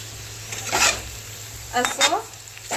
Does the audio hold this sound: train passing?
no